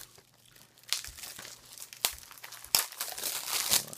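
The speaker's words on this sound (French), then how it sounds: "Donc, je vais vous le déballer." Plastic wrap crinkles and tears as a Smallfoot Blu-ray combo package is unwrapped, with several close, sharp crackling bursts over a quiet background.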